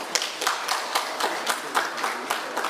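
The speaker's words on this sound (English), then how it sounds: "Maybe we can give him another round of applause." Audience at a prison and correctional service conference on parole claps in a light, fairly regular rhythm, sounding like a modest group with distinct individual claps.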